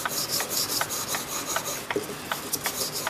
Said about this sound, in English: We'll rub it in both directions initially to get a start, then we'll finish in the one direction.